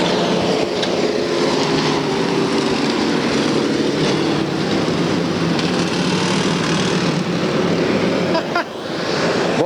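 Stock cars race in an enduro at Bakersfield, California, a loud continuous roar of rough-sounding engines close by, with no clear breaks.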